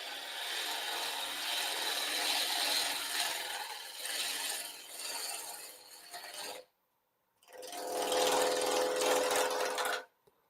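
A woodturning lathe cutting a small bur oak piece, a loud, rough, continuous scraping hiss with a brief gap of silence before the cut resumes and then stops abruptly.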